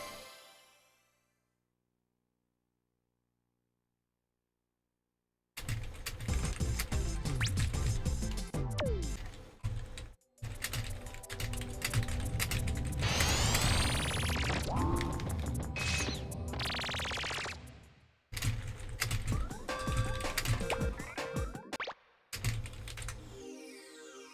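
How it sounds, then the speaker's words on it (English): A mechanical computer keyboard clacks crisply and rapidly during typing, dense close keystrokes in long bursts separated by short pauses, after a quiet start. "you get to hear my my crisp keyboard clacking even louder"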